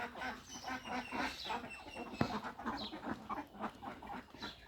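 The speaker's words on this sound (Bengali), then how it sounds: "এই যে আমার হাঁস খেয়ে খেয়ে খালে চলে যাচ্ছে।" A flock of farm ducks heading to a canal quacks and chatters continuously in a busy, dense chorus, with a sharp knock partway through.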